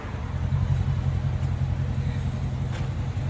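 A Dodge Charger R/T with a 5.7L HEMI V8 exhaust rumbles at a steady idle, a deep, continuous low drone that stays close and even with no clear revving.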